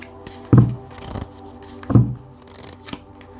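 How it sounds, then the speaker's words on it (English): Tarot cards are shuffled by hand in two quick riffling bursts with soft taps between, close and fairly crisp. "Set your intentions as I shuffle the cards."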